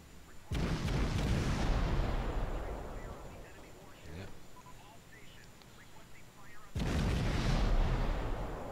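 An Atlanta cruiser fires its naval guns in the video game World of Warships: two heavy booming salvos roughly six seconds apart, each with a long, rumbling decay, loud and near.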